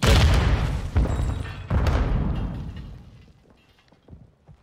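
A self-inflicted grenade blast in Modern Warfare 2 gameplay: a loud, heavy boom that hits twice in quick succession, then rumbles and fades into quieter in-game noise.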